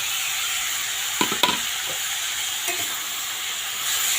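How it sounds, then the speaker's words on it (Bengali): Soaked mung dal stirred into a papaya vegetable curry in a pan, a steady frying hiss with a few scraping spoon clicks and stirring knocks in the middle. "এই যে ভিজিয়ে রেখেছিলাম মুগ ডালটা দিয়ে দিলাম এর মধ্যে দিয়ে দেবো"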